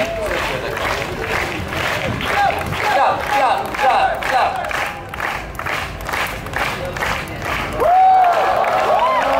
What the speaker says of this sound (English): Please, everybody, clap.